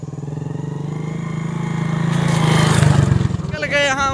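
A 1000RR superbike with an aftermarket exhaust idles and revs with a deep, throaty exhaust rumble that rises to a louder roar before settling back.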